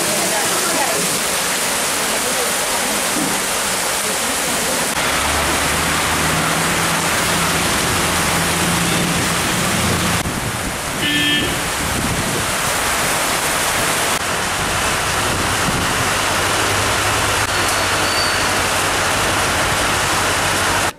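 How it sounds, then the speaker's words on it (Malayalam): Heavy rain and wind from Cyclone Gaja lash Kothamangalam in Kerala as a loud, unbroken roaring wash of noise that stays dense throughout, with a faint low hum underneath. "കോതമംഗലം താലൂക്കിലും മഴയും കാറ്റും ശക്തമാണ്."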